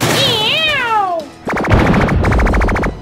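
Cartoon cats meow in a chorus, rising and falling close and loud for about a second, followed by rapid rhythmic bursts like a burst of mechanical fire.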